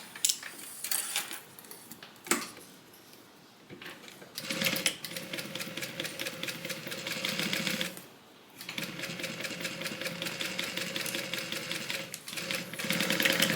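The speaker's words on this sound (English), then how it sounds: "I just roll that seam out, and then we'll do a top stitch" A sewing machine top stitches a seam on a divider bag in fast, even rattling bursts, running for a few seconds, pausing briefly, then running again in longer steady stretches up close.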